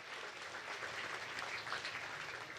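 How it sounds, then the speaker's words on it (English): A crowd at an awards gala applauds steadily, a dense, even patter of clapping at a moderate distance with no voices over it. "giving a big round of applause to the organizing committee"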